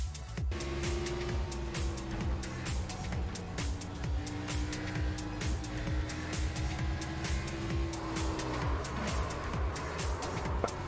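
Race cars roar together in a sim racing oval event at Kansas, with a dense, continuous engine drone and shifting pitch as cars pass close, some tire noise mixed in, and a voice talking faintly beneath.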